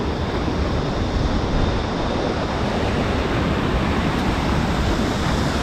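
Rushing water of the Wollomombi River near the falls in New South Wales, a loud, constant broadband roar of flowing water with steady intensity and no speech.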